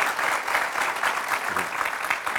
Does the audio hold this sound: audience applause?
yes